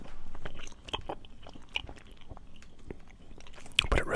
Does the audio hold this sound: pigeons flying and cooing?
no